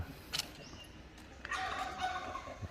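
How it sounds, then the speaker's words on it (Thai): A loud, harsh peacock call rings out from a distance, a brief cry followed by a longer wailing call over quiet outdoor hiss. "เสียงนกยุ่งก็ร้องแรงมากนะครับ"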